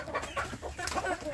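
Free-range village chickens cluck busily at morning feeding, several birds close by with quick overlapping calls and a rough, uneven rhythm throughout.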